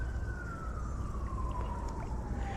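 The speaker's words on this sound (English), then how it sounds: "this is like the first time I've heard the sirens when we fish." A wailing emergency siren drifts in the distance near a city while fishing, its pitch sliding slowly downward over a steady background rumble.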